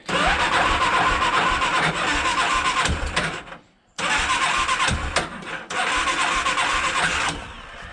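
A Yamaha Big Bear 350 ATV engine cranks and fires with the choke on, revving loudly in a rough, uneven roar that cuts out briefly twice before catching again, close by.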